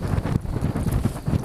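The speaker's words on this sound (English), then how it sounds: "obviously it's too windy" Strong wind buffets a microphone on a Wilderness Systems Recon 120 kayak out on open water, a steady low roaring rumble with gusting swells, no voices.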